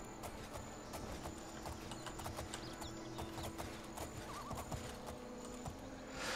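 A horse in a fantasy role-playing video game whinnies and clops its hooves, with mechanical game sounds and steady ambience beneath, heard fairly quietly with no talking.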